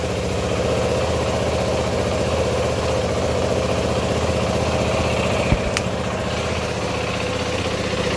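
Yamaha WR450F dirt bike engine, a 2012 model, idling steadily at low volume with a constant mid-low hum and a brief sharp click partway through.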